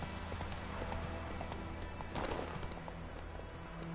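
The horse Roach gallops steadily in The Witcher 3, with rapid, continuous hoofbeats over a dense, constant game soundscape.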